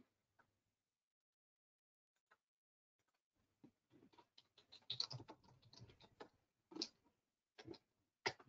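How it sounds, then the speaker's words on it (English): Soft, quiet keyboard typing in short irregular bursts of key clicks, with near silence before the tapping picks up. "just typing it out."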